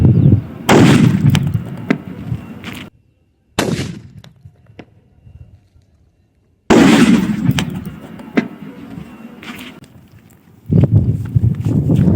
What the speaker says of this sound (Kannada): ಈ ಬಾಂಬ್ ಇಟ್ಟು ಬ್ಲಾಸ್ಟ್ ಮಾಡ್ತೀನಿ.